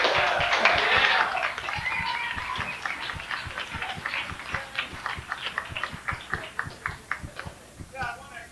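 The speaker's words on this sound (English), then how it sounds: "I want to clap like fucking idiots" Rhythmic audience clapping at a 1990 performance in the BACstairs Performance Series in Boulder, Colorado: voices at the start, then a steady beat of claps, about three per second, gradually thinning toward the end.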